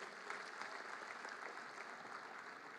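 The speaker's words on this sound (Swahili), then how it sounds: "Tuwapigie makofi jameni" Crowd applause at President Ruto's Jamhuri Day celebration in Kenya, a soft, distant wash of steady clapping that holds evenly throughout.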